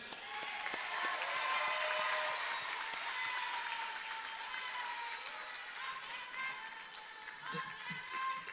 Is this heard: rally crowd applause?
yes